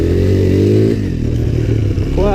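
A Suzuki LTZ 250 four-wheeler idles and revs with its stock exhaust, a close, loud, throbbing engine note that dips briefly and picks back up with a rising rev at the end.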